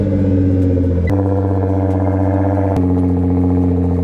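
A Nissan GT-R engine runs at a steady rumbling idle with a couple of brief blips of throttle, close and loud, with no voices.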